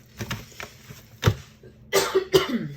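Someone coughs several times in short bursts, set off by a very spicy marinade being mixed for oven-roasted pork ribs, the last coughs harsher and louder.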